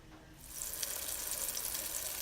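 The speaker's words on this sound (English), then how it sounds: "it's frying very well." Cube steak sizzles in hot canola oil in a pan over medium-high heat, a steady close-up crackle and hiss that swells after a brief quiet start.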